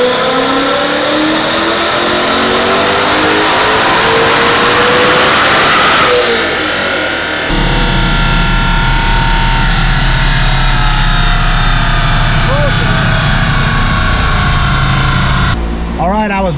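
A 2024 Mustang GT fitted with a Whipple supercharger revs hard on a dyno pull, loud and close, its engine note climbing steadily before dropping off and settling into a rumbling idle and lighter revs.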